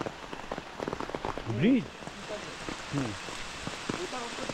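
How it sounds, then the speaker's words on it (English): Rain patters on leaves in a forest near Hebbe Falls, Karnataka, a soft, dense hiss of drops. Brief voices and a passing chirpy call rise over it now and then. "rain on the leaves"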